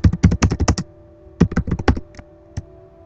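Fast clacking keystrokes on a PC keyboard entering Skyrim console commands, a quick run of taps, a pause, then a second burst tapering to a few last presses, close up and alone.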